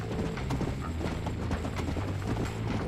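Horse hooves clip-clop in a quick, steady rhythm in the video game Red Dead Redemption, against a busy background of other noises.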